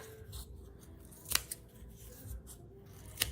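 Scissors snipping through a piece of foam core to cut it into pieces, a few crisp close cuts among quieter rustling, no one talking.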